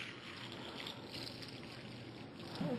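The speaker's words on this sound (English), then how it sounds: "So we're just going to simulate that by pouring some tap water in here." Tap water pours steadily into a container, a continuous splashing trickle with broadband hiss that holds even throughout, close and moderately loud, with no voices.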